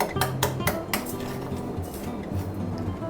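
A utensil stirs and scrapes sugar in a metal pan as it caramelizes for jigarthanda, making close, repeated clinks and scrapes in a quick uneven rhythm.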